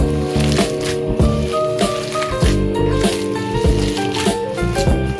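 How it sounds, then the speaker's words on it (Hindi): Chicken nugget mixture with green onions being worked together by hand, soft wet squishing and squelching pulses repeating steadily up close over background music. "यहाँ पर मैं हाथ की मदद से इसको अच्छे से मिक्स कर रही हूँ।"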